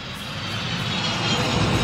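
Airplane engines near an airfield, a loud steady drone that builds slightly as an aircraft passes close, with no talking over it.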